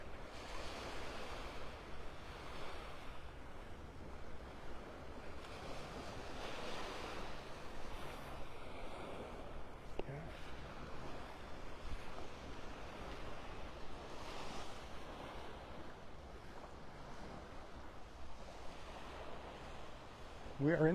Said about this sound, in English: A few more steps and we will be officially on the beach at Delnor Wiggins Pass State Park.